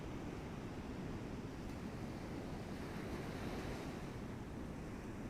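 Ocean waves wash steadily onto a beach, a continuous broadband roar of surf with some wind, loud and unbroken with no talking.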